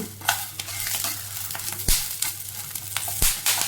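Drumstick (moringa) leaves sautéing in a pan with a steady background sizzle, broken by several sharp scraping stirs of a spoon against the pan, close by and fairly loud with no talking.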